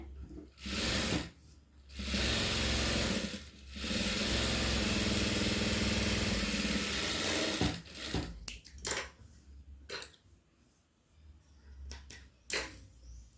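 A sewing machine stitches through lining fabric in several bursts, each a loud, even motor whir lasting a second to four seconds. Quiet pauses and small handling clicks fall between the bursts.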